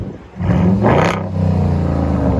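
A 2012 Jeep Grand Cherokee's 5.7L HEMI V8 breathes through true dual exhaust with Carven TR mufflers, dipping briefly then surging into a loud, close rev with a rough burst before settling into a deep, steady burble.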